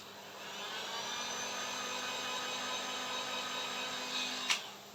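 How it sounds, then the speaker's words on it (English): A heat gun blows steadily for about five seconds, warming and softening material so it can be moulded; a close, continuous whooshing roar with a brief click near the end. "Hit it with the heat gun to soften it so I can mould it."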